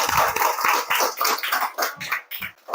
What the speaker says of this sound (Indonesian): berikan tepuk tangannya meriah untuk kita dulu